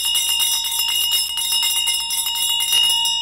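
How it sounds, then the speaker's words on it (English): A Tibetan Vajra bell struck with a Vajra scepter rings loud and close, a rapid continuous metallic jangle with bright sustained overtones filling the whole span. "This is how you play the Vajra Bell and Vajra Scepter."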